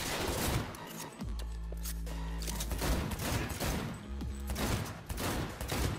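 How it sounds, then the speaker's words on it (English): Rapid video-game gunfire in Cyberpunk 2077, loud bursts of shots with thumping low-end hits and short pauses, sustained across the whole stretch with no talking. "Honestly, I kind of like this gun combat."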